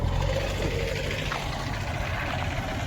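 Steady engine rumble of traffic on an open road, a continuous low drone of vehicles going by at moderate distance with no distinct pass-by peaks.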